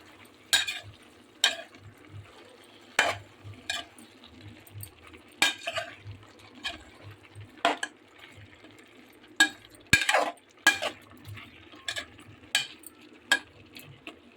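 Mixed vegetables for palya stirred in a pan, with repeated scraping and clinking strokes of a spatula against metal at an irregular rhythm over a soft, low background sizzle.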